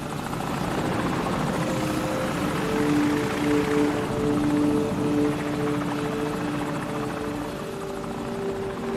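A steady, droning helicopter rotor hum in the video game Call of Duty 4 fills the scene, holding at a constant loud level with a faint whining tone throughout, with no voices.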